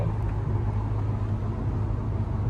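A Hyundai Sonata N Line cruising at about 60 on the highway, heard from the cabin as a steady low road rumble and engine hum with no speech.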